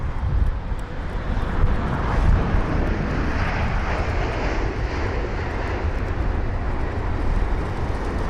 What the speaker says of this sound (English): There's the United 767 on taxi now as well.